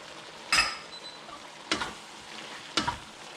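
Pork liver hits a sizzling pan while kilawin is cooked, giving three separate short bursts of frying hiss and stirring scrapes, close and moderately loud, with quiet gaps between.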